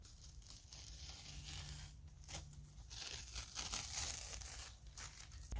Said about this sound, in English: While the paint is still wet, I'm going to take the tape off.